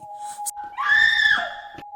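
A woman's loud, high-pitched scream of terror in a Hindi horror story, lasting about half a second over a faint steady tone and soft background noise.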